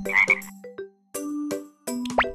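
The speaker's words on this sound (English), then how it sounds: "What does a frog eat?" Croaking frog sound effect from the ABC Animal Toddler Adventures game: a few short, clear croaks come in quick bursts, then pause, then more croaks with a brief rising squeak, loud and close with no talking.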